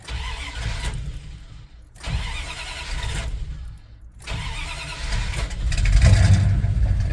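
Dodge Ramcharger with a full Holley Hooker exhaust cranks in repeated bursts separated by short pauses, then catches and settles into a loud, rumbling idle that swells toward the end, close by.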